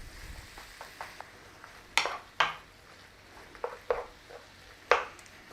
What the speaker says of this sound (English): Squash it in, press it down, break up your mince, start to cook.